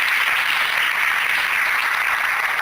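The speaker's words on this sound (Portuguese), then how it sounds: "Você pode mais uma vez aplaudir o Senhor com muita alegria." Church congregation applauding during a Portuguese-language service on marriage, a steady dense wash of clapping held at even loudness throughout with no voices over it.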